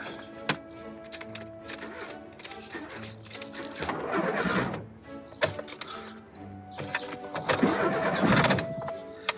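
An old car engine cranks repeatedly without catching, with uneven bursts of starter churning over a background of clinks and faint movement.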